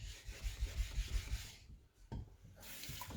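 Stainless steel clad knife being polished on a soft Naniwa Super 3K water stone, a wet rhythmic rasping rub of steel strokes across the stone, fairly close, with a brief pause midway before the scraping resumes.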